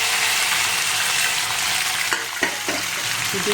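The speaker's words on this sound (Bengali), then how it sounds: "এটাকে একটু হালকা হালকা ভাজা ভাজা করে নেবো" Tomato, garlic, ginger, dried chili and cashews fry in a pan, a steady close sizzle with a few scraping stirs near the end and no talk.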